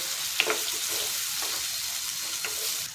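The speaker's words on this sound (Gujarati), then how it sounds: "ને બધું સરસ મિક્સ કરી લઈશું" Chopped tomato stirred into bottle gourd and chana dal in a pan, giving a soft, steady sizzle with light scraping stir strokes at a moderate, even level and no talking.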